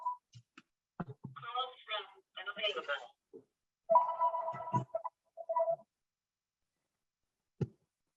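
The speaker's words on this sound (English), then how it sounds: "Sorry, that was my house phone." A house phone rings in warbling electronic bursts in the background of a remote city council meeting, alongside brief fragments of talk and longer silent gaps.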